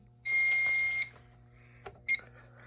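A Silent Knight IFP-50 fire alarm panel goes into alarm: a loud, steady electronic tone holds for under a second, then a short second beep follows after a pause. The surroundings are otherwise quiet.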